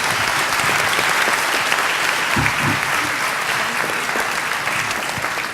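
Sustained audience applause after a book talk by the co-author of Hamilton: The Revolution at Moraine Valley Community College, a dense, loud, even roar of many hands with a brief murmur of voices beneath.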